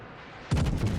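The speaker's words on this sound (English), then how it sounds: "I'm trying to shoot at the last position of the Belfast" Heavy naval guns in World of Warships fire shells in a single sudden booming salvo from the battleship Alabama, with a quick rumbling echo after a quiet moment.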